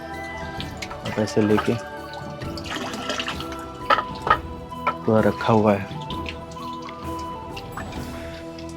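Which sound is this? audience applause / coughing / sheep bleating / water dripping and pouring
water dripping and pouring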